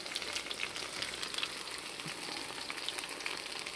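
Banana fritters frying in hot oil give a steady, quiet sizzle with fine crackling pops throughout, continuous and unbroken, with no voices.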